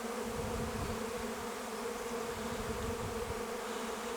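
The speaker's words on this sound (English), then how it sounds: "All these bees are going to all gather together, and they eventually will go inside that swarm trap" A swarm of bees in Australia buzzing steadily around a swarm trap, a dense, continuous drone with many overlapping wingbeats, close and unbroken, with no talk.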